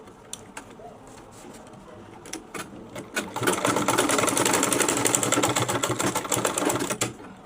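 Sewing machine stitching fabric for a cap, a few short separate bursts and clicks at first, then a steady loud rapid run of stitching for about four seconds before it stops.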